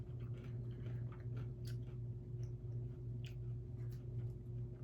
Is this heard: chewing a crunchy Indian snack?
yes